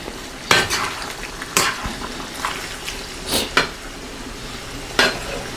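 Shrimp cook in curry in a pan with a soft sizzle, punctuated by several sharp scraping stirs of a utensil against the metal, close and alone without voices.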